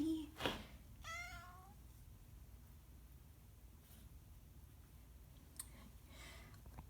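A small kitten gives a couple of short, high meows near the start, fairly close, then quiet with faint clicks and rustles, no talking.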